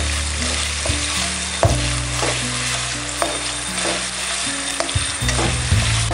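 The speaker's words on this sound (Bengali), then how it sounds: "1 থেকে 2 মিনিট আমি পেস্টটা ভেজে নেব।" Spice paste for Kashmiri-style dum aloo fries in a pan, a loud, steady sizzle with occasional stirring knocks and scrapes, with background music running underneath.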